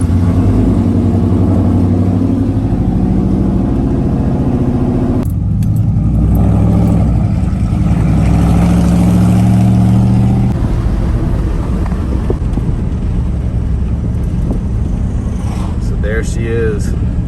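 A flood-damaged Ford Mustang engine cranks and catches, then revs up and settles into a rough running idle, loud and close, with people talking over it throughout.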